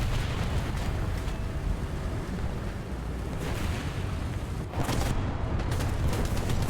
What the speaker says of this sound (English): Oh god. Artillery.